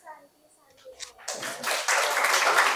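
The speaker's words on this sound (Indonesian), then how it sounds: "Oke, beri tepuk tangan dulu." A school class breaks into applause after a group presentation, starting midway after a few faint murmurs and voices, then building to steady clapping.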